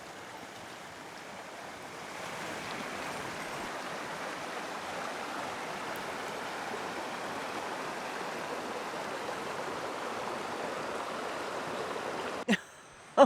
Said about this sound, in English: That's the river.